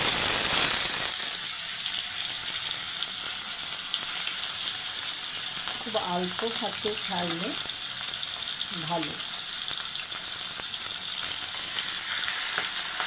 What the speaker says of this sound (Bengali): এবার আমি মাছের মাথাগুলো ভেজে নেব।